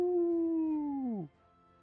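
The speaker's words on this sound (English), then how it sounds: "Howl." A howler unit in the strategy game Legion TD 2 lets out a single drawn-out, wavering howl that holds steady before bending downward and cutting off sharply, heard clearly with no talk.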